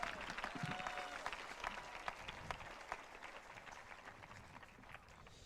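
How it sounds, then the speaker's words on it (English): A crowd claps in applause at a high school graduation ceremony, a dense patter of hands with some sharper individual claps, fading somewhat toward the end, with faint voices underneath. "So yeah, a hand of applause."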